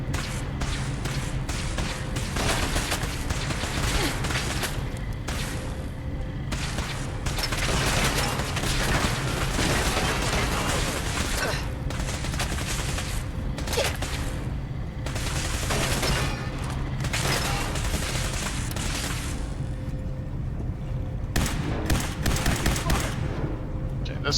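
Sustained gunfire in Fallout 4, loud repeated shots and bursts layered with whip-like cracks and mechanical clatter, nearly continuous throughout with a few short pauses.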